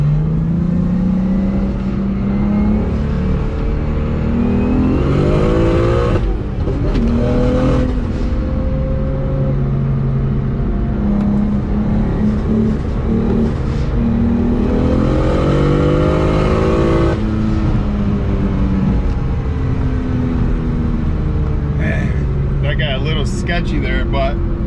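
Modified BMW 135i making about 750 wheel horsepower, running 24 psi of turbo boost: sustained loud engine and exhaust roar from inside the car, rising and falling through hard acceleration and gear shifts.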